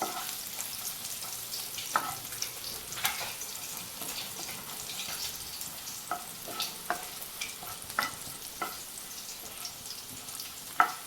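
Ginger and garlic frying in hot oil for a prawn roast give a steady close sizzle, broken by repeated light scrapes and taps of a spoon stirring the pan, with no voices.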